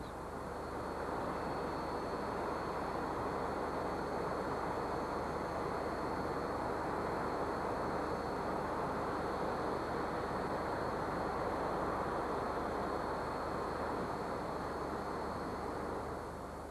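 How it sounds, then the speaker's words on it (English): Royal Air Force aerobatic team jets fly over an airfield in North America, a broad steady roar of engine noise that holds evenly throughout with no voices. "the Royal Air Force aerobatic team is taking to the skies"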